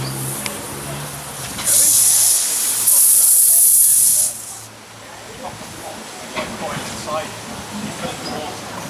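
A loud, sustained hiss of steam escaping from a boiler valve on the West Lancs Light Railway bursts out for a few seconds, then cuts off, leaving a quieter rumbling background.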